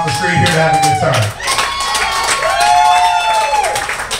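A comedy club audience cheers, whoops and claps in a sustained, loud wash of crowd noise with no break across the whole stretch.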